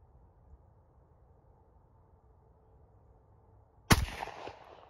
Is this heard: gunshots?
yes